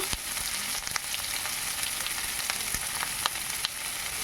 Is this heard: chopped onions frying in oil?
yes